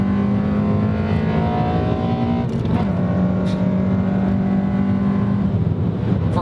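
A 2015 Honda Civic Si pulls hard through its gears, with a steady, loud engine drone whose pitch climbs, drops at a shift, then climbs again.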